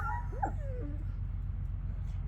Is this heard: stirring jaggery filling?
no